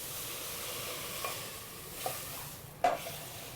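A pan of peppercorn sauce deglazed with cognac, off the fire, gives a steady soft sizzle with a few faint stirring scrapes and a brief sharp clink near the end.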